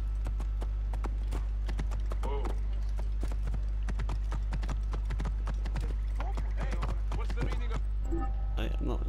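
Rapid hoofbeats clatter steadily throughout, a horse galloping in the video game Assassin's Creed Origins, with occasional brief voice-like sounds mixed in over a low constant hum.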